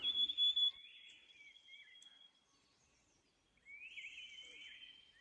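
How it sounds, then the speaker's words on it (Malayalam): Birds call with thin, high whistles in a mountain forest on the Nag Tibba trek in Uttarakhand, faint and fairly distant, with a louder burst at the start and another stretch near the end. "പക്ഷികളെല്ലാം കരയുന്ന സൗണ്ട് അല്ലാണ്ട് വേറെ ഒരു സൗണ്ട് ഇല്ല"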